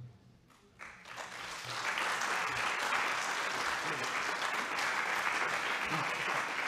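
Audience applause at the opening of a Catholic conference on women and church office, a brief quiet start giving way to steady, dense clapping that fills the hall for several seconds with no talk over it.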